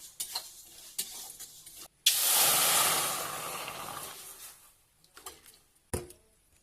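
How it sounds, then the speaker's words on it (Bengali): Mung dal frying in a pan, a loud burst of hissing sizzle that swells and then fades over a few seconds, framed by scraping stirs and clinks before and after. "মুগ ডালটাকে ভেজে নেব আগে।"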